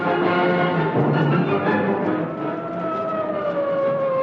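A police car siren from an old-time radio drama wails steadily and loudly, its tone sliding down near the end, heard alone without voices.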